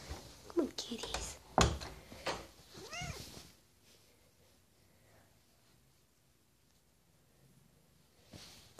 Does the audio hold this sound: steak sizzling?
no